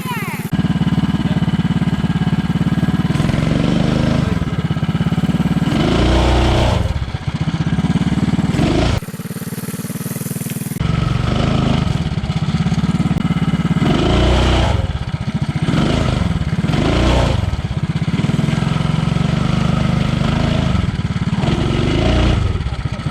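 A motorized Ford F-150 Power Wheels ride-on truck runs its small engine loudly and steadily, revving and clattering, with a brief drop in the middle before carrying on; people talk over it.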